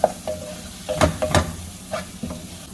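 Rice dish ingredients for chicken Bukhari rice being stirred in a hot pan, with a steady sizzle and several distinct scraping strokes close by.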